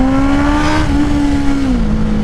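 A Honda CBR650R motorcycle with a Black Widow full exhaust drones loud and close, its engine holding a steady note before the pitch eases down slightly near the end.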